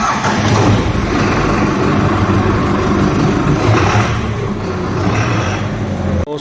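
A Farmtrac 6055 PowerMaxx tractor with a CRDI diesel engine runs steadily at close range, giving a loud, continuous rumble that holds an even level throughout.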